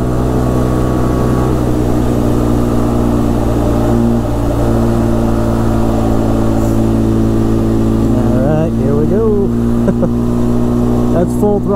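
A Honda 300 Fourtrax 4x4 ATV engine held at full throttle, wound right out, giving a loud, steady mid-pitched drone with a fixed tone and a few wavering pitch swings near the end.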